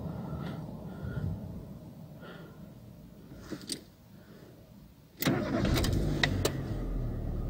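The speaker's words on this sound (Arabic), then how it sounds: "صوت المحرك عادي يعني" A car with a 1.2 litre petrol engine and a lit oil warning light is started with a short cranking burst, then settles into a steady, close idle after a quieter interval with faint clicks.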